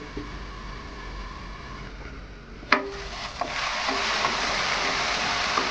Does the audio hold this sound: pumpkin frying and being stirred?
yes